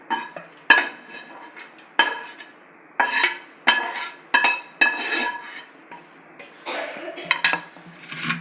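Sautéed spices for bhel puri being scooped into a mixer jar, a series of clattering metal spoon-and-jar knocks and scrapes in irregular bursts, close and fairly loud, with no talking.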